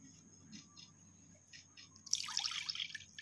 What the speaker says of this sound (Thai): แล้วก็ตามด้วยน้ำปลาทิพรสนะครับ